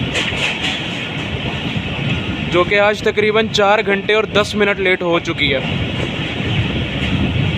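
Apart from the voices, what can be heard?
Millat Express train pulled by GU40 locomotive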